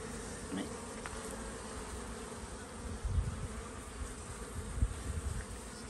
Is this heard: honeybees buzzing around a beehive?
yes